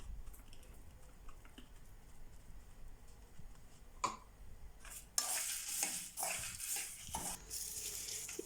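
Garlic and asafoetida roast in a pan for idli powder. After a quiet start with faint stirring clicks, a close, bright sizzle bursts in and keeps crackling to the end.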